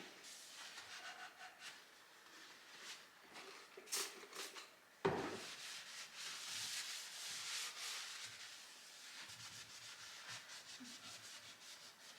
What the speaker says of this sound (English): I'm gonna scrape it off with my handy dandy scraper and just clean the legs a little bit